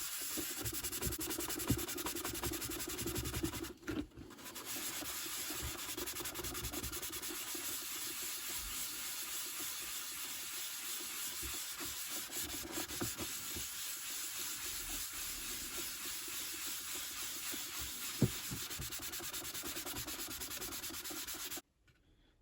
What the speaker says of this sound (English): It takes a lot of scrubbing and a long time, but it really does work.